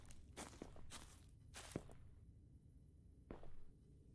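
Footsteps in the game Last Night, a handful of quiet, irregular steps with sharp scuffing transients spaced about half a second apart, faint and unaccompanied by speech.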